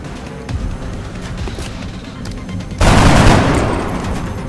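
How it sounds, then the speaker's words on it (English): Gunfire in the tactical video game XCOM: a dense burst of loud shots erupts partway through, over a continuous noisy battle backdrop of rattling and crackling effects. "We'll probably want 2 people on Overwatch and the rest of us to just start opening fire."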